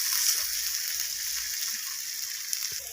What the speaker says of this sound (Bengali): ধনিয়া পাতাটা দিয়ে আবারও